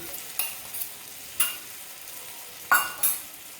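Stirring arbi (taro) curry with spices and a splash of water in a pan, with a few soft scraping strokes over a faint steady sizzle, heard near and without talk.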